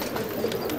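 Pigeons in a loft give a short, soft cooing call against a steady background hum, close by and brief.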